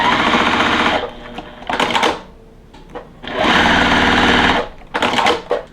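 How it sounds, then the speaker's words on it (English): A sewing machine stitching a quilt block runs in short bursts of rapid mechanical chatter, two longer runs and a few brief ones, with quiet pauses between them. "And now it's time to sew our other side."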